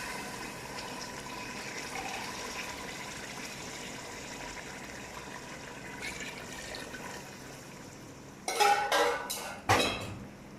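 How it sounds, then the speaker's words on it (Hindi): Water is poured into a pot while making chana beef pulao. A faint, steady stream runs for several seconds, then a few loud, sharp metallic clanks of the pot and utensils sound close by near the end. "अभी मैं इसमें 2 कप पानी डालूंगी।"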